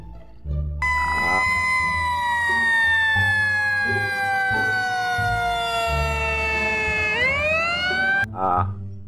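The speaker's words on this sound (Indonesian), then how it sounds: "kita mendapatkan mobil pemadam kebakaran" A loud wailing siren held on one long falling tone, then sweeping back up, sounding close and dominant with brief rumbling noises around it.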